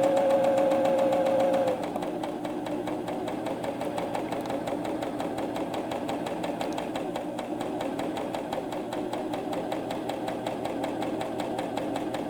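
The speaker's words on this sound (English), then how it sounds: "And now I will take the cover stitch all the way across." A cover stitch sewing machine runs steadily across a basted hem, a fast even mechanical whirring hum sustained throughout, close up with no voices.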